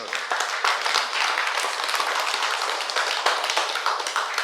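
An audience claps and applauds steadily and loudly from start to finish, a dense wash of clapping with no pause.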